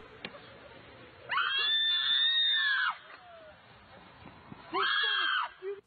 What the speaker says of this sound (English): She's on the ground, by the way, banging her fist and screaming.